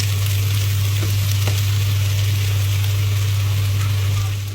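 Chopped onion frying with potatoes in a pan, a loud, dense, continuous sizzle with a steady low hum underneath, close up and with no talking.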